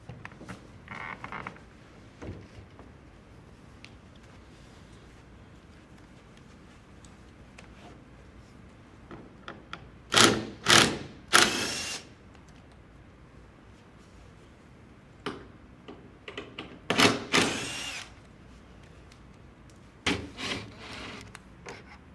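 Metal bolts are worked loose from a sleeper bed frame, giving quiet creaks and rubbing, then a few louder clusters of grinding, ratcheting scrapes near the middle and toward the end.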